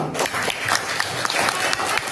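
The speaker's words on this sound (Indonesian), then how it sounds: "Oke, tepuk tangan dulu" Students in a classroom clap together, a short burst of loose, uneven hand claps lasting about two seconds.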